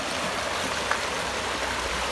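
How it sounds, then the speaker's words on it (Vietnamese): A forest mountain stream flowing, a steady close rushing and babbling of water with no voices. "Nước suối rất là đẹp."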